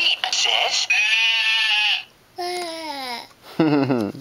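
A small child mimics a sheep's bleat with a wavering, drawn-out "baa" sound, interspersed with babbling and an adult talking nearby at close range.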